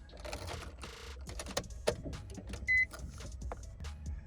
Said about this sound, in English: you press it all the way in, and the window will go down